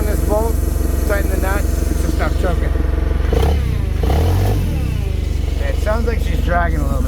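A Toyota forklift engine idles steadily after a tune-up, loud and close with a constant low throbbing hum and a slight drag, while someone talks over it.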